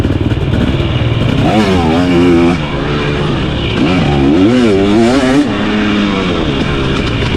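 A 2023 KTM 250XC two-stroke dirt bike engine on a Crow Canyon test ride, loud and close, revving up and down in repeated rising and falling sweeps over a constant buzzing drone.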